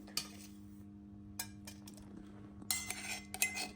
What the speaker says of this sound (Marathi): आता आपण एका वाटीमध्ये काढून घेऊ